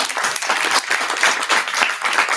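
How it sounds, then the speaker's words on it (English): Audience applause at an environmental law education and research event, a dense, steady wash of many hands clapping close by throughout the short stretch, with no talk over it. "I think we all need to give a round of applause"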